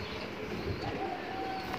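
Soft pigeon cooing in a pigeon loft over a steady, noisy background hum, continuous through the short stretch with no talking.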